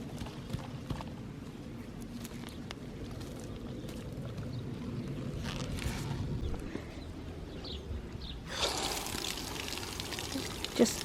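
Water is poured from a watering can onto allotment soil ahead of a compost mulch, a soft steady splashing that grows louder and brighter near the end, with light outdoor background noise.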